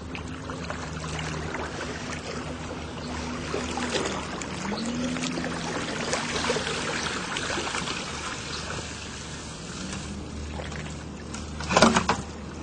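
A lake weed rake is pulled back through shallow lake water, giving a steady wash of swishing, churning water close by, with a brief louder splash near the end.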